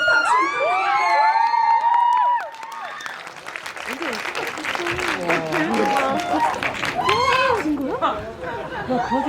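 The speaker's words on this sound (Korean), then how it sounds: "여러분, 네, 큰 박수 부탁드릴게요." Studio audience at a Korean film talk event for the movie 서울의 봄, applauding and cheering loudly as a special guest actor is called up, with shouts and excited voices mixed in throughout.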